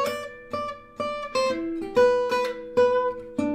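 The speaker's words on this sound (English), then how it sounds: "So maybe a 2-5-1 lick could sound like this." A 2-5-1 lick on a gypsy jazz guitar, played alone and close up as a quick run of crisp picked notes with bright ringing attacks, in a brisk steady rhythm.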